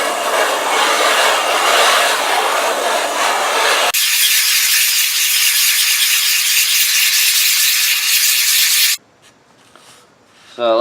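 Old gasket material is scraped or sanded off an AMC engine block during an oil pump rebuild. The steady, loud abrasive rasp runs for several seconds, changes texture partway through, then stops abruptly before a short final burst.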